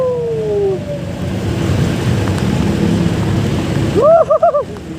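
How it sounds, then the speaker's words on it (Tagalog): Steady heavy typhoon rain and wind noise roar throughout while riding a Honda motorcycle, and near the end a voice shouts excitedly several times over the downpour. "Umuulan! Umuulan! Umuulan!"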